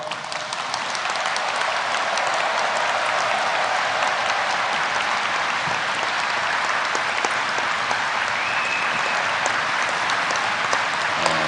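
An audience at a church service applauds warmly, a dense steady clapping that holds for over ten seconds without pause.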